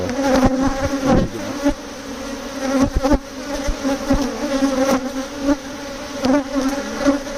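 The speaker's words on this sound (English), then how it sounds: "no wonder the bees started going crazy when you looked at that one" Honey bees buzz in a dense, continuous swarm hum during a spring swarm transfer into a Layens hive, close and loud with shifting intensity and no talk.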